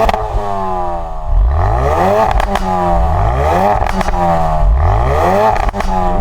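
A Ford Focus RS engine revs hard in repeated rising bursts, its exhaust crackling and popping between pulls, loud and close throughout with no talking.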